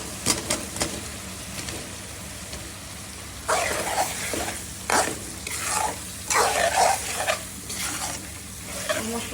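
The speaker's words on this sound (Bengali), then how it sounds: "দিয়ে দিলাম পানি একটু, মশলাটা কষানোর জন্য।" Masala sautéing in a pan with a little water gives a close, bubbling sizzle, with bursts of scraping and stirring that swell and fade over a constant background hiss.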